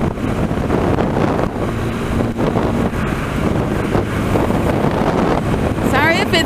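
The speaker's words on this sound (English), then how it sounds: "Sorry if it's really windy." Heavy wind roar buffeting the microphone while riding a Honda CB300F motorcycle, a loud steady rumble throughout with a faint engine drone underneath.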